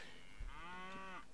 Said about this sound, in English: I hear that damn cow on every map.